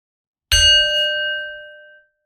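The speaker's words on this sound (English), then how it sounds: "We'll begin with the bell." A meditation bell is struck once, a clear ringing tone with a bright attack that sustains and fades slowly over about a second and a half, alone in silence.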